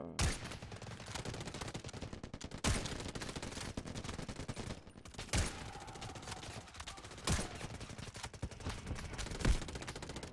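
Bolt-action sniper rifle fire in the Delta Force Mobile video game: about five loud, sharp shots spaced a couple of seconds apart, each cracking over a busy background of game noise, with no speech.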